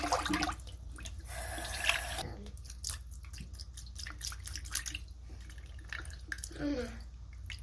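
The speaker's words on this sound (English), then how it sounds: "These are our flowers we're rinsing out." Calendula flowers swished and rinsed in a basin of water to wash off bugs, soft close splashing, trickling and drips at low level, with faint voices in the background.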